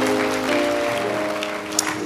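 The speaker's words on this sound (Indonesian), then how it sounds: "Tepuk tangan saudara" A church congregation claps in dense, continuous applause during a sermon, steady and fairly loud, with an organ or keyboard tone sustained beneath it.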